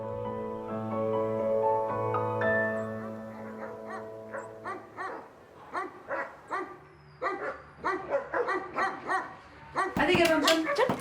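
Dogs in an animal shelter whine in a long, tonal cry, then break into a rapid run of close, loud barks and yips, overlapping in a rough rhythm, with one final burst louder than the rest.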